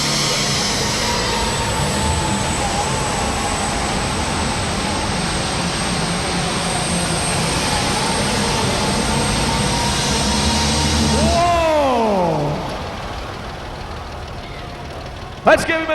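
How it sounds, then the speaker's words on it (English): A super stock pulling tractor at a Farnhamville, Iowa pull roars loud and steady through a full pull, its engine droning heavily before winding down and dropping in pitch near the end, followed by a brief clunk. "Watch this tractor go to work."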